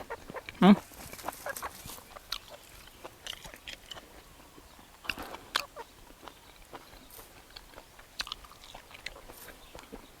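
Farm chickens about three to four months old clucking intermittently nearby, with soft pecking and scratching sounds between calls.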